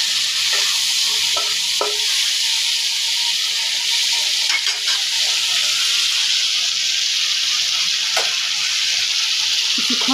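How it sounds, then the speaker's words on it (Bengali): Prawns with red and green chillies and spices sauté in a pan, producing a loud, dense, continuous sizzle and hiss with a few faint stirring knocks, no talking. "এখানে সেই চিংড়ি মাছগুলো ধুয়ে রেখেছি দিয়ে দেব। আবারও কিছুক্ষণ কষিয়ে নেব।"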